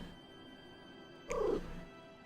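A cat in the midst of a Final Fantasy 14 game session gives one short, fairly loud vocal sound about midway through, standing alone over a low steady background hum.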